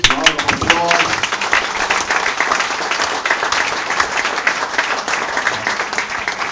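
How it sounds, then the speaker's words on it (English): Sustained, loud round of applause from a crowd at a Lawful Hawaiian Government legislative session in Kalapana, Hawaii, steady dense clapping throughout with a few voices briefly mixed in at the start. "please, round of applause"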